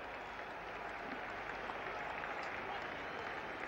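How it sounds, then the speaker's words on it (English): Cricket crowd at the 1973 West Indies versus England first Test cheering and clapping after a boundary hit for four, a broad sustained roar of applause that holds steady at a distance throughout. "Crowd going wild now."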